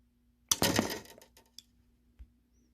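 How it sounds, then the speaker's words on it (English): Regular wire cutters snip off an acoustic guitar string: one sharp metallic clip with a brief ringing jangle of the string, followed by a few faint small clicks, close and alone. "I just use like a regular pair of wire cutters like these and just snip it off"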